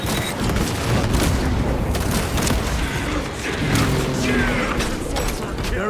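A grenade blast in the Warhammer 40,000 Space Marine 2 battle game, a loud boom buried in continuous gunfire and mechanical clatter, with voices barking over the dense combat noise.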